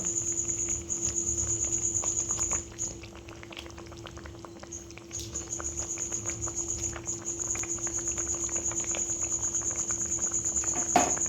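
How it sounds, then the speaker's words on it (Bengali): Gravy for doi katla, fish cooked in yogurt, simmers in a pan, giving a steady low bubbling and hiss with a constant hum and occasional faint clicks, close and moderately loud, with no voices. "গ্রেভিটা ফুটছে, এবার আমি মাছগুলো একে একে দিয়ে দেব।"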